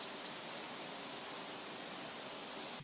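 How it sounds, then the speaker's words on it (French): Steady forest ambience of wind moving through trees, a soft continuous rustling hiss with faint high chirps, likely distant birds, running evenly without a break. "ou de forêt avec du vent dans les arbres."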